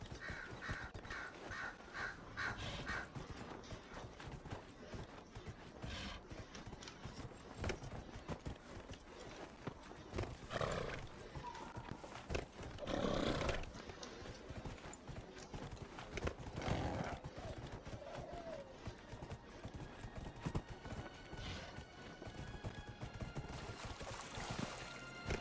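Horse hooves clip-clop steadily in the video game Dragon Age Inquisition while the horse is ridden, a continuous loud trot over ambient game sound with occasional crow caws.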